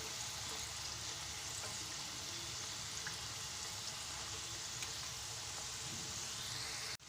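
French fries sizzle steadily in hot oil while being stirred, a dense continuous hiss with faint scraping that carries on until it cuts off at the very end.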